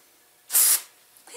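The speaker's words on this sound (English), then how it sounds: "I'll take some brake cleaner." A single short burst of brake cleaner aerosol sprayed onto a crankshaft rod bearing to strip wax on a VW 74mm stroker crankshaft, a loud hiss of about a quarter second, alone in a quiet room.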